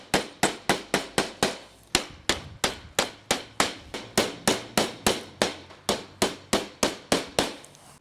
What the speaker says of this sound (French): Ici, je mets juste un clou sur les extrémités